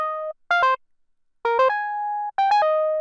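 A synthesized melody converted from audio to MIDI in Ableton plays three short phrases of clean, steady tones with brief gaps and sustained final notes, alone and fairly loud.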